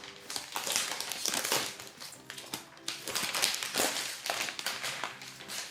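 Crinkling and crunching of wrapping being cut for a Christmas food hack, close and irregular, with rapid rustles and snips across several seconds and no voices.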